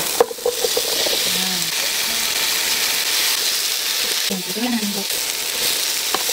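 Squash and tomato sizzle in a frying pan with a steady close hiss, a clatter of a utensil at the start and again midway as the vegetables are stirred, no voices.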